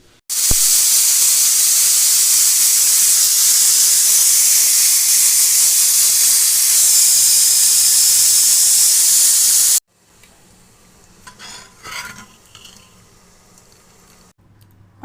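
A pressure cooker of soaked, flattened field beans and lentils vents a loud, steady jet of hissing steam for about ten seconds, then cuts off abruptly, leaving faint kitchen clatter.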